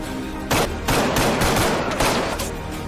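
Several sharp gunshot bursts from a pistol in a violent revenge film, a loud crack near the half-second mark followed by a dense, rapid volley of shots that carries on to the end.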